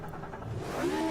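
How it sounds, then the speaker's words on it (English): A race car engine in the racing game Automobilista 2 cranks and fires up, a rising mid-pitched mechanical rumble that builds steadily over about a second, heard alone without talk. "I love how the car starts up too."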